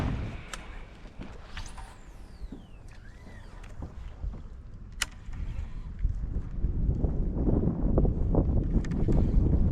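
Gusty wind buffets the microphone and water laps against a fishing kayak drifting on a lake, a rough rumbling roar that builds stronger toward the end, with sharp knocks and no talk.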